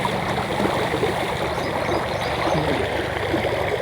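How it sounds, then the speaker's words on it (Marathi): A stream of water flows toward a temple in Karjat town, a steady, fairly faint rushing and gurgling wash with no voices over it. "हे पाण्याचा प्रवाह नागेश्वर मंदिराच्या दिशेने जाताना दिसतोय"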